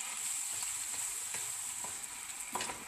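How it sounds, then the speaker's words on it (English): Blueberries stirred into a mixture in a pan, a steady sizzling hiss with light scraping strokes of the spoon for a few seconds. "Give it a good stir."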